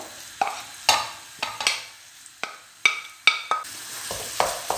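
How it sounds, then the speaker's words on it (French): Vegetables and onions cooking in olive oil in a pan or wok, stirred with repeated sharp scraping knocks over a soft sizzle, close by and without speech. "Je vais ajouter les légumes avec les oignons"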